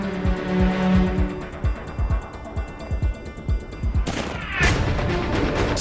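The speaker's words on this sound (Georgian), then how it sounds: "სნაიპერის გასროლა მოიერეში ჯგუფისთვის ოპერაციის დაწყების ნიშანია." Sniper rifle shot followed by a rapid fusillade of gunfire during a military training demonstration, a dense string of sharp, loud cracks in quick succession with a heavier blast near the end.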